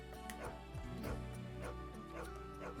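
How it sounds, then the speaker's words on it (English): A puppy in the video game Wild ARMS 3 gives a few short yipping barks over a looping game music background, faint and spaced apart. "It's a puppy!"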